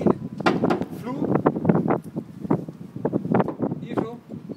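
Gusts of wind buffet the microphone outdoors beside a camper, rumbling low under steady close speech from someone talking.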